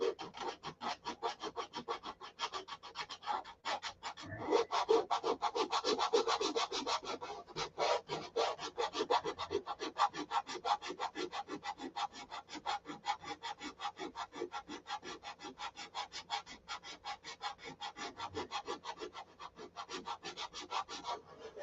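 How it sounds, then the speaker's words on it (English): Hand sanding on a Viper model detail gives a long run of quick, even rasping strokes close by, steady and rhythmic throughout with no voices. "I'll keep sanding."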